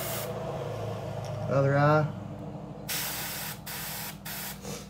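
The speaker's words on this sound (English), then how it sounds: "If you want bigger cracks, spray on higher pressure." Aerosol-style paint spraying onto a crackle shad fishing lure, several hissing bursts in the latter half, close and fairly loud, after a brief stretch of talk.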